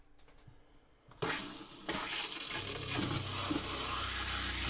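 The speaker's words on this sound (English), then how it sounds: "turning on the hot and the cold valves on our bathroom sink, the shower, and then we'll move into the kitchen and do the kitchen sink." Water gushes from RV camper sink faucets as the lines are flushed during dewinterizing. The flow starts abruptly after a quiet second and keeps running steadily and fairly loud, with a second surge from another tap soon after.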